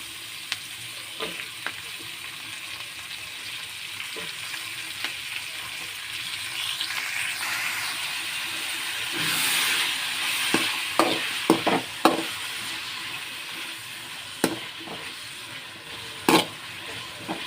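Chopped tomatoes frying with onions in a pan at home, a steady broad sizzle throughout with occasional clinks and scrapes of stirring, close by, no talking.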